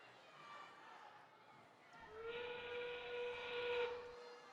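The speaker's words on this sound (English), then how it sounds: "But with that whistle, we have our end game right now." A long steady whistle sounds at an FTC robotics qualifier match to signal the endgame, starting faintly and holding for about two seconds over a quiet arena murmur and hiss.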